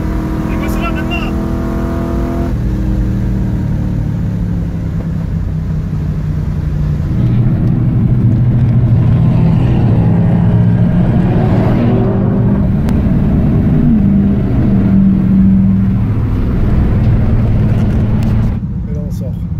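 Muscle cars, including a Camaro ZL1 1LE and Mustangs, rev and roar loudly on a race circuit, engine tone rising and falling in sustained pulls close by.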